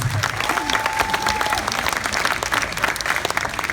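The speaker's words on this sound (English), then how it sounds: "Give them a round of applause" Crowd at a high school graduation hypnotist show breaking into loud applause, steady clapping with some cheering and a brief whistle, close and continuous throughout.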